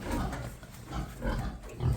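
Piglets on a farm in the Vinnytsia region grunt and squeal softly and continuously, with a low, steady muttering of grunts and a few brief sharper squeals, fairly faint and distant.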